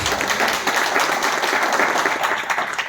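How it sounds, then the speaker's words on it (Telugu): A church congregation at a Sunday evangelical worship service claps together in God's name, a dense, steady burst of applause filling the room with no pause. "చప్పట్లు కూడా దేవుని నామమున."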